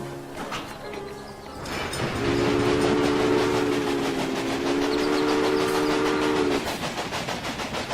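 A train runs along a rail line in the railway-building game Railway Empire, a steady rumbling with repeated clacking over the track and a sustained two-tone whistle that sounds for several seconds, moderately loud against a busy background.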